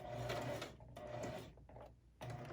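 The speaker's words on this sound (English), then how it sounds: "So we're gonna top stitch to the tape." A sewing machine top stitches along tape on a cased-pleat fabric mask, running in short close bursts of rapid mechanical chatter separated by brief pauses.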